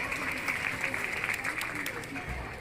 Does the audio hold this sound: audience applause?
yes